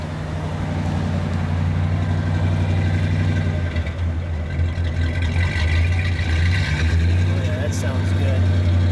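A 1960 Chrysler 300F hardtop idling with its unique intake manifold, a steady low rumbling exhaust note held evenly throughout, close and fairly loud.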